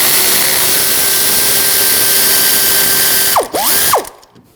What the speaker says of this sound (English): using a M12 triple square socket. I'm gonna take these bolts out.